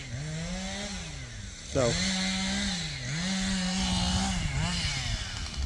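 A small Husqvarna chainsaw revs and bogs as its chain cuts through brush, the engine pitch rising and falling in repeated surges, loud and close, with a brief spoken word near the start.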